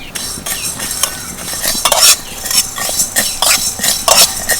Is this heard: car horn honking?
no